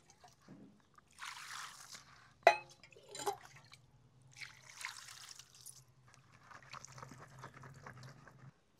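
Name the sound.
washing cauliflower with cold water in a bowl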